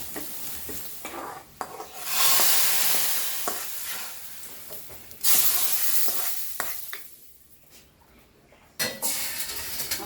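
Fish curry ingredients frying in coconut oil in a pan, a steady loud sizzle with stirring scrapes and occasional utensil clinks against the pot, swelling in bursts and easing off, without talk.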